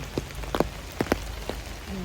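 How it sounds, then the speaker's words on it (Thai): Light rain in a public park: scattered drops patter and tap on surfaces nearby, some dripping from trees, over a soft steady background hiss, faint and irregular. "ฝนตก"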